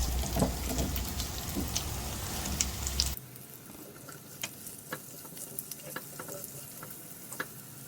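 Potatoes dropped into a hot frying pan for corned beef: a loud burst of sizzling and frying for a few seconds, then a quieter crackle with scattered pops and light stirring taps.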